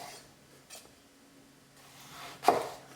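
A knife finely chops a tomato on a board with a few sparse taps. The sharpest stroke comes near the end, against an otherwise quiet background.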